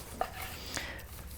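A knife slices straight down through a rare steak against the grain, giving a soft cut with one sharp tap of the blade on the board and a second quieter contact, close and brief.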